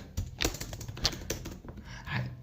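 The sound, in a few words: typing on a computer keyboard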